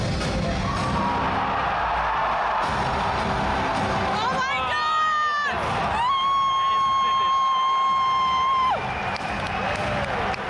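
A large audience at the E3 2016 conference erupts in a loud, sustained ovation of cheering and applause, with bright electronic tones rising over the roar partway through.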